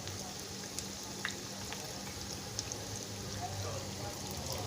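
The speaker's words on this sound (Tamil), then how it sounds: "இப்போ நம்ம கலந்து வச்சதை பொரிக்க ஆரம்பிச்சிடலாம்." Soft, steady sizzling of potato pancakes frying in oil, faint and continuous with light crackles, accompanied by a low hum in the background.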